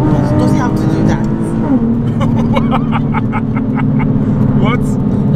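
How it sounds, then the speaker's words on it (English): A Nissan 370Z engine revs up and drops repeatedly in short rev-matching blips, loud and close, with people talking over it inside the cabin. "Does he have to do that revving? It's rev matching."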